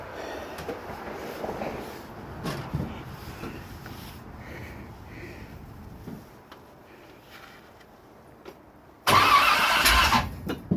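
A 1967 Corvette engine, quiet and rumbling at first, then firing up with a sudden loud roar close by and running strongly for the last couple of seconds.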